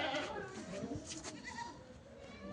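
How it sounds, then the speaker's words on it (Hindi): On a goat farm, a goat with its young kid bleats amid a busy outdoor background, while someone talks over the animal sounds. "एक ये बकरी किसान भाइयों, इसके साथ भी बच्चा है।"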